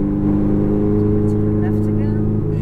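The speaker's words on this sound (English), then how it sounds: "Squeeze that throttle down the hill." A Ferrari F430 accelerates under throttle, its engine droning steadily and loudly downhill on a track throughout, with a voice briefly audible over the engine.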